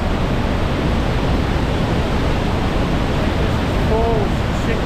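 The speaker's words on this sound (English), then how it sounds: "you won't be able to hear us because of the noise of the water" Trümmelbach waterfall in Switzerland roars as a loud, dense, unbroken wash of rushing water that fills the whole moment, close and steady with no pauses.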